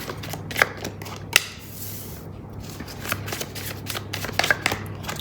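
Tarot cards being shuffled by hand and then drawn, close and soft, with riffling flutters and a few sharper snaps and slaps as cards are pulled and laid down, no talk.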